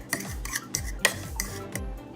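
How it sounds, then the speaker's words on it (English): Spoon scraping and clinking against a bowl while stirring a mixture just heated in a microwave, a steady series of quiet rhythmic strokes about every third of a second, close and alone. "I'm just gonna mix it around really good."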